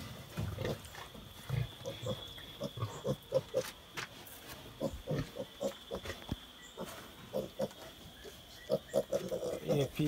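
Young piglets oinking and grunting on a livestock farm, a series of short, fairly faint grunts scattered irregularly over a quiet outdoor background, with a voice talking faintly at times.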